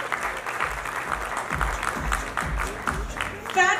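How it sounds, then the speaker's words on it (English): Audience applause at a phone launch event for a made-in-India foldable 5G phone, a continuous burst of clapping from a crowd with a rising swell near the end. "Can we once again have a huge round of applause for them"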